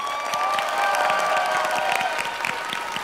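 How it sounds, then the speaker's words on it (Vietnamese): Applause and cheering break out from a studio audience at a Vietnamese TV game show, a dense, lively clatter of many hands with scattered shouts, loud and continuous throughout. "Vỗ tay."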